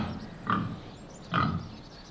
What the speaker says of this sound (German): Das Grunzen, das machen die Schweine, wenn sie zufrieden sind.